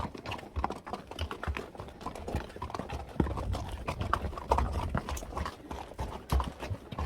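Mule hooves clip-clop on a Grand Canyon trail ride, an uneven run of fairly quiet hoof steps with light shuffling between them.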